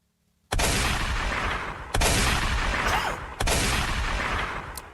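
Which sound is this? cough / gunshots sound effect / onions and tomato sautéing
gunshots sound effect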